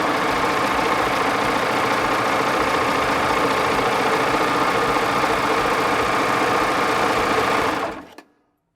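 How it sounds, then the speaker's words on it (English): A Baby Lock serger overlocks a frayed fabric edge, its needles and knife chattering in a fast, steady, loud mechanical whir that runs continuously for about eight seconds before stopping abruptly. "when you run it through a serger"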